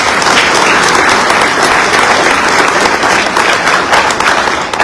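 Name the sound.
audience round of applause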